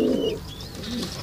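Racing pigeons coo in soft, low, rolling calls up close, two coos a moment apart, with faint higher chirps from other birds behind them.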